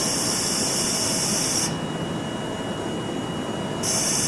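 Electrohydraulic actuator motor in a Rotex self-contained unit starting up to build accumulator pressure, a loud steady hiss and whine with a high tone that cuts out midway and then returns.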